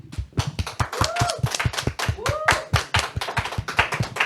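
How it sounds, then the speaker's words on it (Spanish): An audience at a Catholic faith gathering claps in a dense, steady patter of close hand claps, with a few voices briefly calling out over them. "Agradecemos a Juan Pablo Bonilla por esta carga de fe con un fuerte aplauso."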